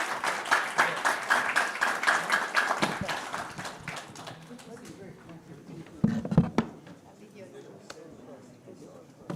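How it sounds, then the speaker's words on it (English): Applause breaks out at an India AI public health surveillance event, a dense round of clapping that is loudest at first and then thins into scattered claps and a few sharp taps over the next several seconds. "A warm round of applause"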